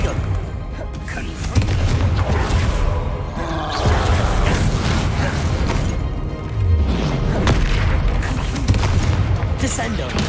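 Booming spell blasts and crashes from combat in Hogwarts Legacy, several heavy impacts going off in uneven bursts, with a voice shouting over the fight.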